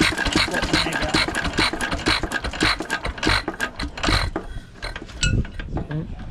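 A 1920s-era antique stationary engine in a front yard clatters with busy mechanical knocking and rattling, its rhythm loosening and thinning toward the end as it is shut down by grounding the magneto.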